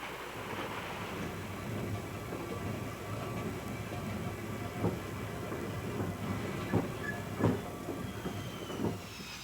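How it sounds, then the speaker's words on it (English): A rumbling high-speed train passes through the German countryside at steady speed, a broad rushing roar with a few sharp clacks toward the end. "High-speed trains slip through the countryside."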